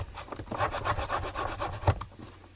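A foam folder rubs firmly back and forth across a paper mini album page in quick, rhythmic strokes, making a close, dry scraping sound that ends with a brief knock. No one speaks.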